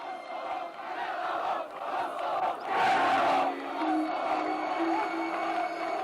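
Crowd of Serb demonstrators shouting and roaring at a political rally in Kosovo Polje near Pristina, a dense mass of voices that swells into a loud surge midway and stays raucous throughout.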